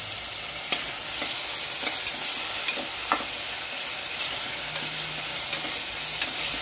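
Onion, tomato, potato and ginger-garlic paste sizzle in a pan for masala khichdi as a spoon stirs them, making a steady bright frying hiss broken by regular soft clacks of the spoon, close up and without talking.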